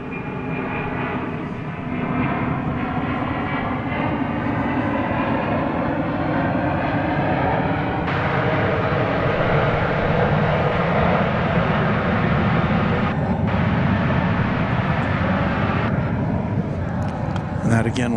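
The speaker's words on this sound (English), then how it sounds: "Well, there's that A300 we saw." An Airbus A300 jet at DFW Airport at night gives a steady, loud engine roar that holds throughout, with a person talking over it.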